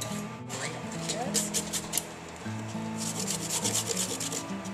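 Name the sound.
grating vegetables with a hand grater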